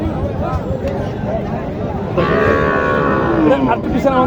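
A young calf at the Mataji cattle market in Naogaon lets out one loud, wavering moo partway through, close by, after a stretch of crowd babble and nearby talk that continues under the call.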